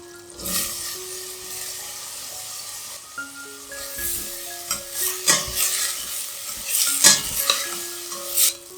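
Potatoes and corn kernels are stirred in a pot with melted vegan butter, giving a soft sizzle under repeated scraping and clinking of a utensil against the pot, with background music playing.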